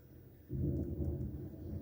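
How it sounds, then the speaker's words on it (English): Distant thunder sets in as a low, steady rumble that swells after a quiet start and rolls on without a break, heard faintly from indoors during heavy rain. "It is thundering here, y'all."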